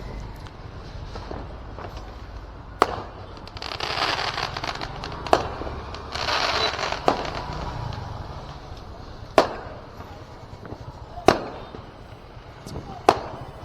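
Diwali firecrackers burst nearby, sharp loud bangs popping at irregular intervals over a background of crackling and distant rumble.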